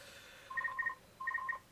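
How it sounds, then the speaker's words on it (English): A phone rings in the room in two short bursts of rapid electronic trilling tones separated by a brief gap, faint and fairly distant. "the phone is going off like a twat, as it always does"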